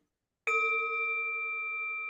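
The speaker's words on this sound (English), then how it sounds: "I'm going to ring the bell to that for the one." A single bell rung once during a small spiritual gathering, striking cleanly and then sustaining a bright, steady ringing tone that hangs on without fading much, close and alone with no talk.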